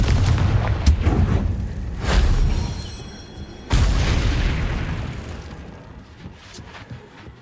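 Confringo blasting spell from Hogwarts Legacy detonating as a series of heavy booming explosions, several sharp blasts with rumbling decays, the loudest near the middle, fading into quieter echoes.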